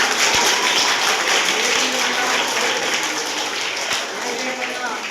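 An audience applauding the principal madam at an event, a sustained dense wash of clapping from many hands at fairly close range, fading slightly near the end.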